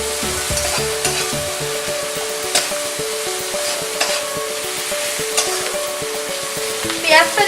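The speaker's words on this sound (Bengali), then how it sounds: "পেঁয়াজটাও আমি একটু ভেজে নেব, বেশি ভাজবো না, হালকা লাল লাল কালার আসবে সেই রকম ভাবে ভেজে নেব।" Chopped onions fry in a pan for Bengali chicken kosha, with a steady broadband sizzle and occasional scraping stirs of a spatula. A brighter crackle flares near the end.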